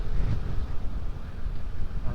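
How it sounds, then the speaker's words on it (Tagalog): Heavy wind buffets the microphone while riding a motorcycle through Bicol, a dense low roar close up, with a voice speaking briefly beneath it. "Pakalakas ng hangin."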